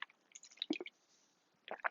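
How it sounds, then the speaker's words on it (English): A small sip of water taken close to the mic, with soft wet mouth clicks and a quick gulp, then a brief second cluster of moist swallowing sounds. "And I'm going to take a small sip of water again."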